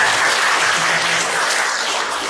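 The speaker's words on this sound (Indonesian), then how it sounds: "Tepuk tangan bersama." Steady, dense audience applause rings out at a village officials' swearing-in ceremony in Tegalrejo, Gondang, continuous and fairly loud throughout.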